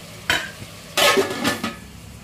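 Onion frying in a covered pan on a home stove gives soft sizzling with a few brief stirring and lid or pan knocks, close and moderately loud, with no talking.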